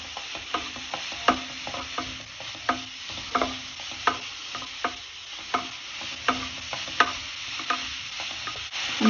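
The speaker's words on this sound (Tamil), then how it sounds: "நெய்யில் போட்டு கேரட்டோட பச்சை வாசனை போகிற அளவுக்கு நம்ம வதக்கிடலாம்." Carrots sautéing in ghee with steady stirring, a continuous soft sizzle broken by regular scraping strokes of the spoon, close and moderately quiet, no voices.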